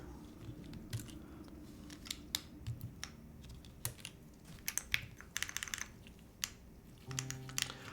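Keystrokes on a Magnum65 mechanical keyboard with a soft typing feel, tapping in irregular bursts and quick runs, quiet and close with no talking.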